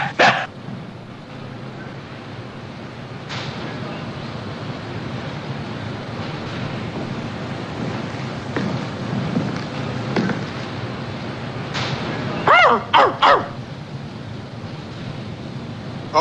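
A man imitates a dog aboard a naval ship, giving three quick bark-like yelps near the end over a steady wash of wind and surf noise.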